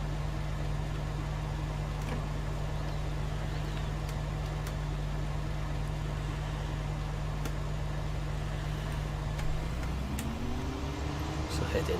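A New Holland CR10.90 combine harvester in Farming Simulator 19 drones with a steady loud engine hum and periodic clicks, its pitch dropping and shifting near the end as the engine loads while chopping straw.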